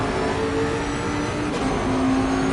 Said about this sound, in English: You can hear the traction control kicking in there on Marty's car.